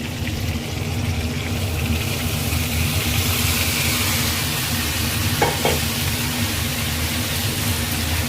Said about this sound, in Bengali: এবার আমি এর মধ্যে পালং শাকটা অ্যাড করব